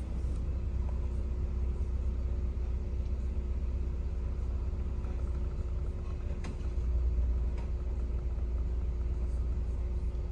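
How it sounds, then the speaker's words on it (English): Car engine running at a steady idle, a constant low rumble with a faint even hum, close and unbroken throughout, with no talk over it. "I'm gonna turn on the car."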